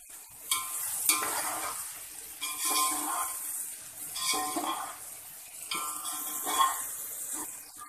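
Garlic ginger paste sizzles in hot oil in a pot while a spoon stirs it, with bursts of frying hiss and scraping against the pan coming in waves, close and fairly loud, without talk.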